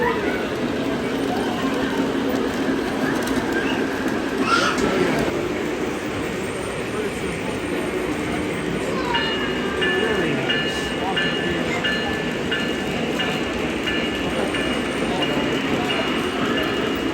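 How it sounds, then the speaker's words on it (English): A Metra commuter train in Chicago rolls along with a steady rumble and some squealing wheel tones, heard from on board and moderately loud throughout. "I actually rode the Metra into town with some family"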